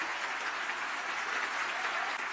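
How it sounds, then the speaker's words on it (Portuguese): An audience at a political liberty forum applauds, a brief steady burst of many hands clapping at a moderate distance. "Vocês merecem, junto com o Davi Agap, a maior salva de palmas"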